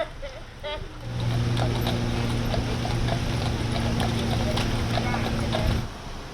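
Horses pull a casket on a horse-drawn carriage during a funeral procession, their hooves clip-clopping steadily under an engine-like hum, with a speaking voice heard faintly at the start.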